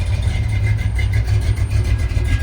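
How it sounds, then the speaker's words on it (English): A red truck's engine runs at a rod run car show, with a loud, close, rumbling low drone that holds steady throughout. "It's that red truck beside me just fired up."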